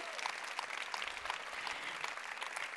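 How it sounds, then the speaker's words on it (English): At the ChangeNOW 2022 opening ceremony, an audience gives warm applause, a continuous crowd clapping heard at moderate distance and fairly soft. "Give them a warm round of applause"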